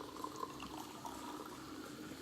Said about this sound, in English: We're going to do a slight pour just so we can get to see what it looks like.